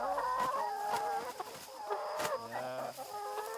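Chickens on a chicken farm cluck and squawk close by in a busy, overlapping flock, with sharp calls rising and falling throughout.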